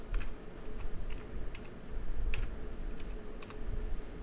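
Typing on a computer keyboard while working in Excel, a steady patter of light key clicks at an even pace, close and moderately loud over a low background hum, with no talking.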